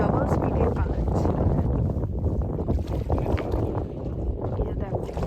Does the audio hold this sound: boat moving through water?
yes